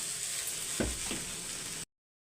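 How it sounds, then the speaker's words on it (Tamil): Okra frying in a covered pan, a soft continuous sizzle with a couple of brief dull knocks, ending abruptly in silence. "இப்போ இதை மூடி வச்சிடலாம் வெண்டைக்காய் வந்து அப்படியே ஃப்ரை ஆகட்டும்"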